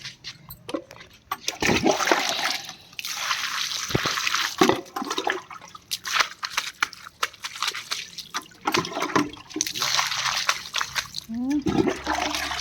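Water splashes and pours in uneven bursts while someone washes their feet outdoors in a village, with close talk over the splashing.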